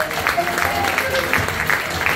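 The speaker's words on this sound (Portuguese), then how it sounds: "Umas palmas para eles também." Audience applause at a live Portuguese desgarrada folk singing performance, a short burst of steady clapping from a crowd with some voices mixed in.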